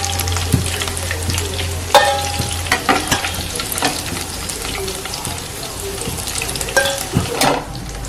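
Squid pieces for kanava 65 fry in hot oil, a steady crackling sizzle with intermittent scraping stirs and clinks from a spoon, close and fairly loud, with a low hum underneath.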